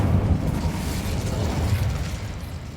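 Incendio fire spell cast in Hogwarts Legacy, a loud whooshing burst of flame with a crackling, mechanical roar that holds steady and then tapers off slightly.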